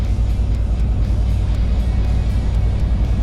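A DAF 480 truck engine pulls steadily under load in 11th gear at just under 50 mph, a loud continuous low drone from inside the cab, with faint periodic ticks.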